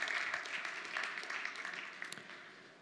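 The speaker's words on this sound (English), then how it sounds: "Give him a round of applause, everybody." Applause from a keynote audience for the speaker at a hacking presentation, faint and somewhat distant, tapering off over a few seconds.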